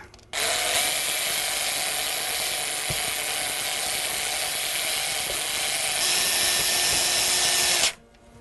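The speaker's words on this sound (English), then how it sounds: "It does a great job, you know, this electric drill." A battery electric drill mixing blueberry muffin batter whirs steadily at close range for about seven and a half seconds, then cuts off abruptly, with no talking.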